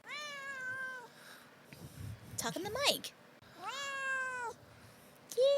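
A pet cat meows loudly and close by, two drawn-out wailing calls with a short chirp at the end, while a person talks in between.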